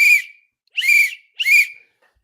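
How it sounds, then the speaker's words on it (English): A referee's whistle blown as a warning, three sharp shrill blasts in quick succession, each around half a second, loud and close with silence between them. "There's a whistle now."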